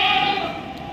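Goats bleating at the Deonar goat market in Mumbai, a steady crowded chorus of overlapping animal calls over general market hubbub, loud and continuous throughout.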